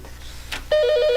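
A telephone rings for an incoming call on a talk podcast, its steady electronic warble starting abruptly and repeating in a close, loud, even pattern.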